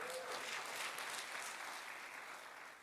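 An audience applauds at a medical white coat ceremony, steady clapping that fills the room and slowly fades.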